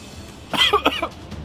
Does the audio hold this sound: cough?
yes